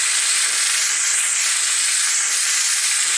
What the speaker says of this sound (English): And what the steamer does is softens the adhesive under the film, so that way no glue is left behind and you get a clean peel